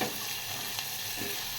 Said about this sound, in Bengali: একটু ভাজা ভাজা হলেই আমি সব সবজিগুলো এক এক করে দিয়ে দিচ্ছি